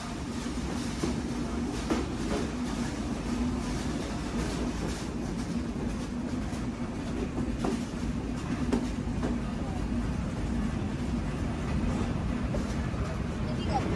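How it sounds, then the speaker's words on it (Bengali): The Sundarban Express intercity train rolls into platform 2 at Alamdanga railway station in Bangladesh, a loud, continuous rumble with wheel clatter and rattling carriages sustained throughout. "আলমডাঙ্গা রেলওয়ে স্টেশনের 2 নম্বর প্ল্যাটফর্মে প্রবেশ করছে আন্তনগর সুন্দরবন এক্সপ্রেস"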